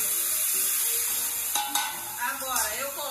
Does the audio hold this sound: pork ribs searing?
yes